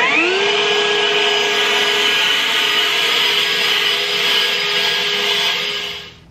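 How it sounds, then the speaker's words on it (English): A cordless leaf blower spins up at once to a loud, steady whirring whine with an airy rush, running continuously nearby for several seconds before cutting off at the end. "All right, let's get the blower out."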